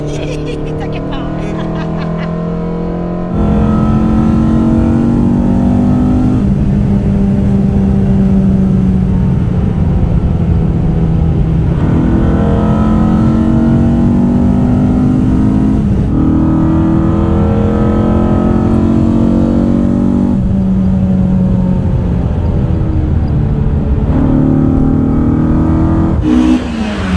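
An Opel Astra GSi's C20XE naturally aspirated four-cylinder revs hard while driving, rising and falling through repeated gear pulls, loud and close inside the cabin, with voices talking over it.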